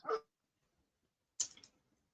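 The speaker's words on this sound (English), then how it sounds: "my dog's starting to bark at a siren now" A dog barks in two short, sharp bursts separated by silence, fairly close and alone, set off by a passing siren that is not itself evident.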